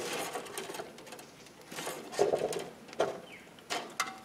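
A power tool whirs in short bursts while driving screws during electrical upgrades in a ferrocement house, with brief gaps and small clicks between runs, close by.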